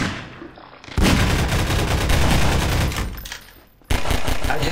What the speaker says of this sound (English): I just start shooting at random things now